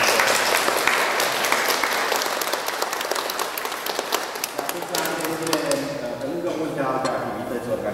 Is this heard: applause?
yes